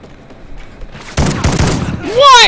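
Burst of gunfire in a Call of Duty Ghosts gun game match, loud and dense for about a second, followed by rising whooshing game effects, with a player talking over it.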